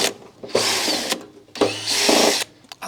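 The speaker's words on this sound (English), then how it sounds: "by removing these screws I should be able to just lift this off" A power screwdriver backs screws out of a saw blade cover in two sustained whirring bursts, loud and close, each ending in a short rattle and a brief pause.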